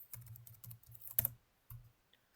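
Quick keystrokes on a computer keyboard type an IP address, a short irregular run of close taps with one sharper clack near the end, then quiet.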